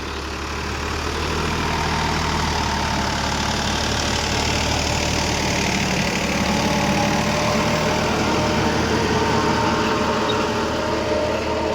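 A Sonalika 47 RX 2WD tractor engine runs steadily at 1600 rpm in second low gear, a close, loud, even diesel chug that holds unchanged throughout with no talking.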